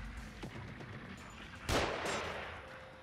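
Shotgun fire in the horror video game The Evil Within: a single loud blast about midway through, with a smaller crack just before it, over a quiet game backdrop.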